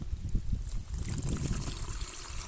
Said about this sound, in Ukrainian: Тепер наливаємо сюди між стаканчиками.